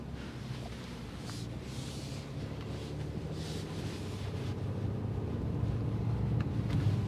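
A 2024 Honda Ridgeline Trailsport pickup driving off-road, heard as a steady low rumble of engine and road noise with wind buffeting the microphone, growing slightly louder over time.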